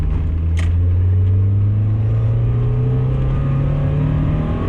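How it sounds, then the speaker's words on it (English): A 1990 Mazda Miata accelerating at full throttle, heard from inside the car as a loud, steady engine drone rising smoothly in pitch through one long pull, with no talk over it. "This is pedal to the metal, baby."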